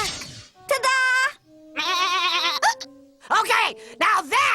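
A cartoon goat girl bleats in several loud, wavering calls separated by short pauses, the voice imitating a goat's cry.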